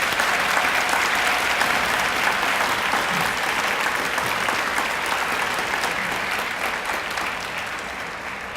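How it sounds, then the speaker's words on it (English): An audience at a school academic achievers ceremony for seniors applauds the parents, a steady, even wash of many hands clapping that fades slightly toward the end. "Let's give the parents a round of applause for being here."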